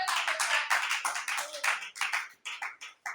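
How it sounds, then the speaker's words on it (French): A church congregation claps together in a brisk, steady rhythm of close, loud handclaps during a worship service, with no talking over it. "Applaudis pour le Seigneur."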